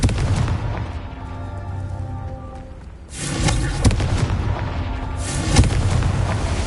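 Two booming blasts from a fire spell cast in a Harry Potter video game, each a deep burst with a rumbling tail, arriving a couple of seconds apart after a quieter stretch of low ambient rumble.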